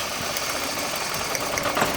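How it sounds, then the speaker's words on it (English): Rough-running engine with a misfiring cylinder, a dense steady mechanical rumble with uneven knocking pulses throughout, loud and close, with no talk. "You can see the engine is coming to death."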